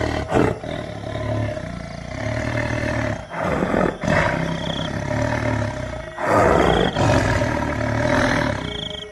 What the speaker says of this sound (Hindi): शेर कल्लू के सामने जोर से दहाड़ता है।